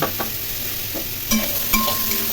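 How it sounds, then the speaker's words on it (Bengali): Chunks of pumpkin and pointed gourd are turned over in a frying pan, a soft sizzle running underneath two or three clear scraping stirs, close by and without talk. "পটল দিয়ে আবার নাড়াচাড়া করে নিলাম"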